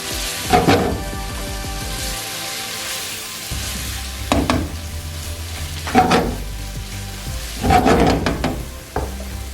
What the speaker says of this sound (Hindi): अच्छी तरह मिक्स कर दें।